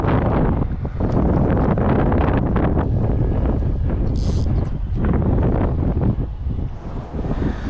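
Strong wind gusting across an open riverbank swim on the Ribble during an evening feeder fishing session, a steady loud roar buffeting the microphone throughout with no break.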